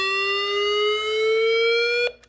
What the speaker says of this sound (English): It's loud. Sounds like a siren.